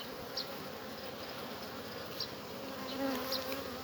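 Soft, steady buzzing of many honey bees close by around hive frames, a continuous drone with occasional individual insects passing louder.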